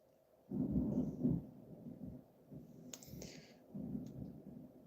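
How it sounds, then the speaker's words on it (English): Thunder rumbling outside during a storm, low deep rolls heard from indoors, with a couple of swells and faint crackling noise, no talking. "It's storming its ass off here."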